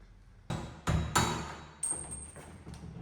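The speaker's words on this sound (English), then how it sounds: "I'm hoping that if I just give it a bit of persuasion with the hammer" Four sharp metallic hammer strikes on a metal punch ring out at irregular intervals, the last followed by a faint high ringing tone over a quiet background.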